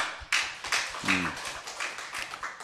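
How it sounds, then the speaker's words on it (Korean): Scattered hand clapping from a church congregation at a Friday night worship service, a few uneven claps rising and fading, fairly quiet with light background voices. "자, 어린 자녀들 위해서 박수 한번 칩시다."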